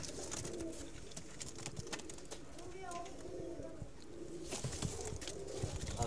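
Soft pigeon cooing, a low repeated warble heard faintly beneath people talking and general background noise.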